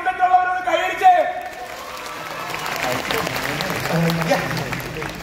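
A voice speaks briefly, then a crowd at the live Sa Re Ga Ma season 2 show in Kozhikode breaks into sustained clapping that fills the rest of the moment.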